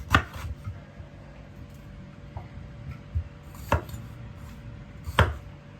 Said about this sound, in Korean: 파프리카는 원하는 크기대로 너무 크지 않고 너무 두껍지 않게 썰어 주시면 돼요